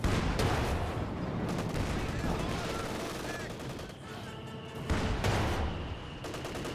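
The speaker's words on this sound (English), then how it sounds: "Another fuse barrage there." Fuse artillery barrage in Company of Heroes 2 amid a WWII battle with an AT gun, Zis gun and Jagdpanzer, rapid crackling gunfire and sharp bursting impacts with a few heavier thumps, fairly loud and sustained.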